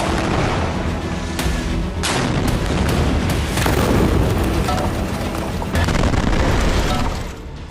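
Bomb blasts over Gaza, a rapid series of heavy booms and rumbling detonations, loud and continuous with several sharp cracks standing out, no talking.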